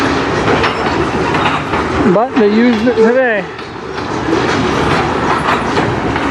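A CN freight train rumbles and clatters steadily along the rails of the Strathroy Subdivision near Sarnia. Partway through, a voice speaks briefly over the rolling noise.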